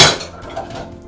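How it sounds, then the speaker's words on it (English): Dishes are rummaged through in a home kitchen pile, starting with a sharp loud clatter of ceramic and cutlery, then fading into quieter clinks and knocks, close by with no talking. "Dig into the pile of dishes here."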